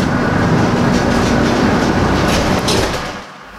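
Taiga railway train rolling along the tracks, a steady loud rumble with faint rail clatter that holds throughout, then eases off near the end.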